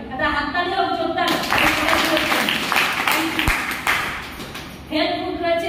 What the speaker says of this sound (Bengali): এটা হাততালি হোক জোরদার।